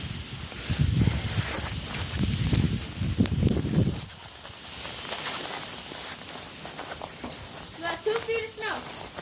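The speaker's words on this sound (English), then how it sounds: "You can see this wind just won't stop." Strong blizzard wind roars and buffets steadily, loud and close, with heavy low rumbling gusts for several seconds that ease into a constant whooshing, and a voice briefly speaks near the end.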